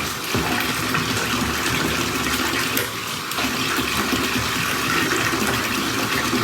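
Hot water pours into a container of murky water holding sweat-stained hats, a steady loud splashing gush that runs for several seconds with a brief dip midway.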